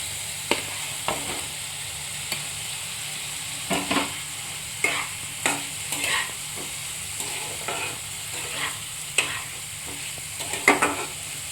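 Potatoes frying in spiced oil in a pan, stirred with repeated scraping clicks over a steady close sizzle, with no talking.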